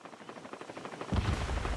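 Rapid automatic gunfire in the video game Far Cry 6, a quick stream of cracking shots that swells into a louder, heavier burst near the end.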